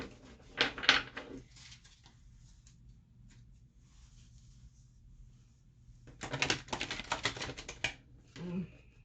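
Tarot cards being shuffled in two bursts of quick, papery riffling and flapping, with a quiet pause between them, close by and fairly soft.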